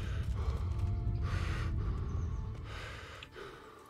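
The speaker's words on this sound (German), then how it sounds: "Mann, der schnauft aber auch immer von ein paar Schritte laufen" Heavy panting and snorting breaths from a character in Kingdom Come Deliverance, several loud close gasps in a ragged rhythm over faint background noise.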